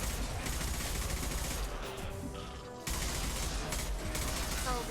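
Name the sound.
concussive shot gunfire in video game Mass Effect Legendary Edition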